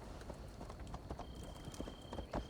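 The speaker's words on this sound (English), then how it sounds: "I've just been riding all these different horses." Horse hooves clip-clop in a steady, even rhythm while riding in Assassin's Creed Valhalla, with a soft continuous ambient wash underneath and no talking.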